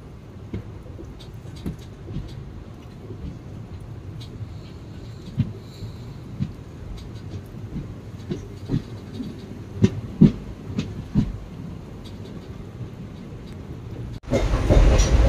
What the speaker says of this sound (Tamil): ஸோ டிபார்ட் ஆயிடுச்சு ட்ரெயின்.